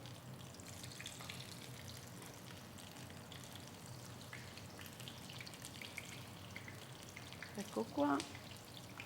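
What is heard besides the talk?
eggplants frying in boiling oil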